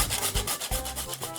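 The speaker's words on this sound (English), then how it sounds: "I'm gonna grate in some fresh nutmeg." Fresh nutmeg is grated against a grater in quick, rhythmic rasping strokes, close and clear, with no voices.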